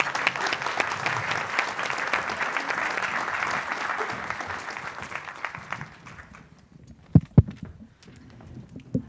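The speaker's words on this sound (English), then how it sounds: "Please give a round of applause to the candidates." Applause honoring the candidates at a 2019 candidates forum, a dense crowd clapping steadily for about six seconds before thinning out to a few scattered, sharper claps near the end.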